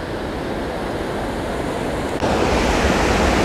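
River water rushes steadily at a dam on the Idaho Falls river, a dense continuous roar close to the microphone that swells slightly louder partway through, with no speech.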